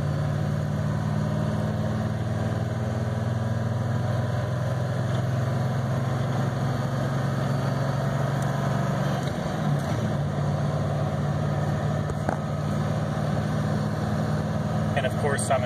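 A 1989 Ford F350 with a 7.3L IDI diesel drives in gear, giving a steady low, droning engine rumble throughout. A person talks over it.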